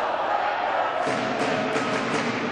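Crowd cheering and roaring at a high school boys basketball game in an old gym, a steady, dense wash of voices throughout with a few louder swells.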